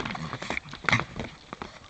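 Horses in a herd, one kicking another: soft hoof shuffles and clops with a single sharper thump in the middle, fairly close, no talking.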